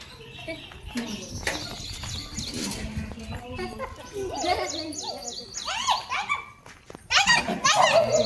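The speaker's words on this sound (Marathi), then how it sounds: "पिल्लू आलं" A puppy yelps and whimpers in short, high-pitched bursts, close by, while people talk around it.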